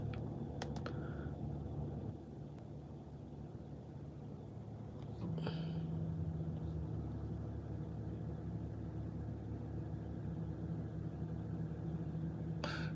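A truck engine idles with a low, steady, faint hum from inside the cab, with a few soft knocks and a short tonal shift partway through.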